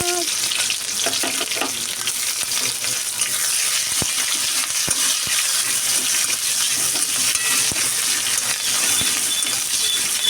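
Onions and panch phoron fry in hot oil in a wok, a loud continuous sizzle with sharp metallic clinks and scrapes of stirring scattered across it.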